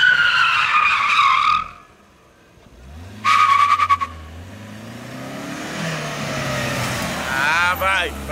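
Tires squeal loudly in a short skid as a car does a handbrake spin, a pause, then another screeching burst as the engine revs and drones underneath, with brief voices near the end.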